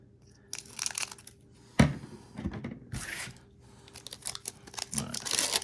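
Pokémon card booster packs being cut open, with crinkly foil wrapper sounds and sharp snips in short bursts, close and fairly quiet with pauses between.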